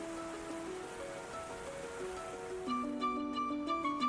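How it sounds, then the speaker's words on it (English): Rain falls steadily in Ys X: Nordics, a soft, even hiss under sustained musical tones that grow a little louder toward the end, with no speech. "Rain."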